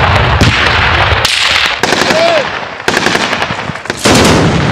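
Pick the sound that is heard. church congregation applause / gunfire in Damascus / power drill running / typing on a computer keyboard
gunfire in Damascus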